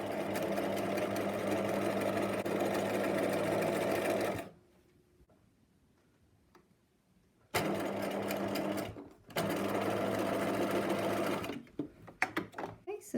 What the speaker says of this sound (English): to stretch the remaining elastic out taut, so that we're now going to sew right down to the next pin